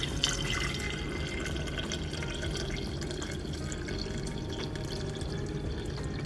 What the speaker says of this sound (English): And then I add around 1 liter of water.